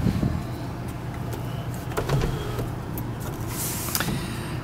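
A 2006 Chevrolet Monte Carlo's sunroof opens inside the car, a low mechanical hum with faint clicks under cabin rumble, ending in a brighter whirring slide.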